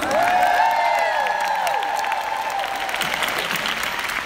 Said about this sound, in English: Everybody give Stella a round of applause.